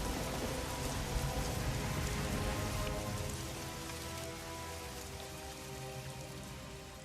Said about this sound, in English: Rain came down in sheets, thick and endless, as if the sky itself wept uncontrollably.